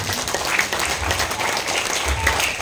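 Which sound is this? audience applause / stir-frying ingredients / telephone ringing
audience applause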